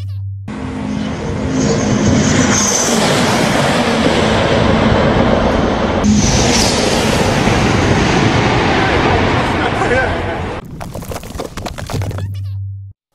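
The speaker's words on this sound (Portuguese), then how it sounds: "Tem um trem lá do Japão lá que ele viaja lá a 500 km por hora." A Japanese high-speed train said to reach 500 km/h roars past, building from a low hum to a loud, sustained rushing blast of wind and rail noise for about ten seconds, then cutting back to a low drone.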